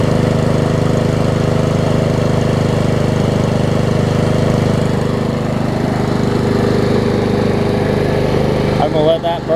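A Snapper push mower with a Honda engine runs steadily at close range, a loud continuous engine drone with oil burning off in the muffler, briefly faltering near the end.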